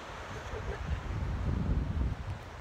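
Cold, breezy wind buffets an outdoor microphone in Cambria, making a steady, loud rumbling roar that carries through the whole moment.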